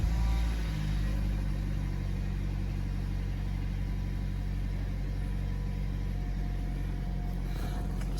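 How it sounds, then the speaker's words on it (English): A Vauxhall/Opel Astra J 1.4 turbo petrol engine cranks and fires up after a full service, then settles into a smooth, steady idle close by with no talking. "So we're going to start the car up now anyway."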